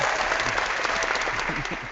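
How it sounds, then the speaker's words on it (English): Brief burst of hand clapping, steady and fairly close, filling the moment after a podcast winner is announced, with a faint voice murmuring beneath it. "Do the clap hands, because you are the winner this week"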